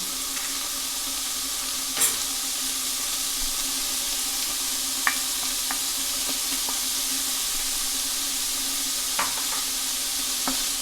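Pancetta fries in oil in a pan with a steady, close, broadband sizzle, broken by a few faint clicks and scrapes as it is stirred.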